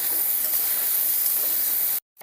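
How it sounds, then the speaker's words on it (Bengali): Banana stem frying with mustard gives a steady, loud, close hissing sizzle for about two seconds before cutting off abruptly. "সর্ষেটা আমি দিয়ে একটু ভেজে নেব ভালো করে"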